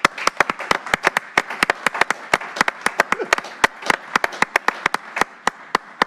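A small meeting audience claps in welcome for a 92-year-old retired judge, a loose scattering of sharp, distinct hand claps that never builds into a full roar.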